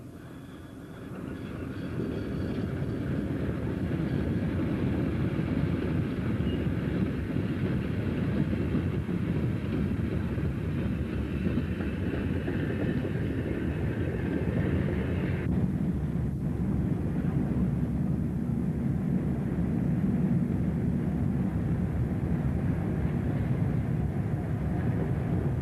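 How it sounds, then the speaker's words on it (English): A Woodhead Line EM1 electric locomotive hauls an eastbound scrap train in the 1950s, a steady, sustained rumble and roar that swells in and holds for the whole stretch, with a slight shift in tone partway through. "Notice the number of passengers aboard this eastbound EM1 hauling scrap"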